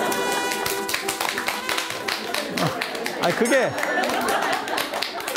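An audience claps during a Korean Buddhist lecture, a scattered round of hand claps under a man's continuing speech.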